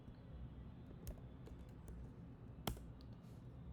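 Typing on a computer keyboard while setting up a custom font in a SwiftUI project, with a few scattered clicks over a steady low background hum, quiet and close.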